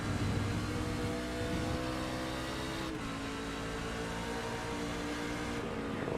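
Race truck engines roar at Watkins Glen in the iRacing game, a loud continuous drone that rises and falls with gear changes and revving as the trucks battle closely, with no voices heard.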